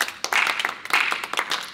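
Audience applause at an LPDP 2024 language enrichment session for Papuan students, a dense burst of many hands clapping that swells and dips for nearly two seconds, with no talking over it.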